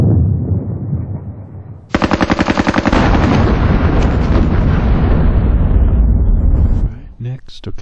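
Rapid machine-gun fire bursts from units in a tactical war game, a dense, loud rattling stream of rounds that starts abruptly and runs for several seconds before cutting off, with a few scattered shots after.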